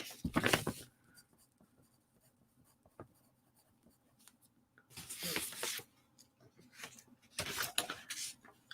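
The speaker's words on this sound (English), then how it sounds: "Let me write that down." Handwriting a note on paper with a pen, heard as three short scratchy bursts of strokes separated by near-silent pauses, fairly close and alone.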